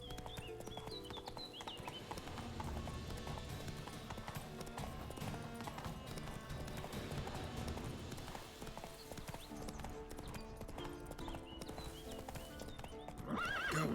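Horse hooves clip-clop steadily with occasional neighing in The Witcher 3, set against dense in-game music and ambience that runs throughout, growing louder near the end.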